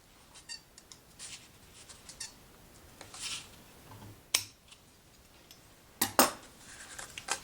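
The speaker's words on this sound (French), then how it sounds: "Maintenant, on coupe l'excédent de fil." Scissors trim excess thread on a knotted accordion book, giving a few brief, crisp snips and clicks over a quiet background, with two sharper cuts near the end.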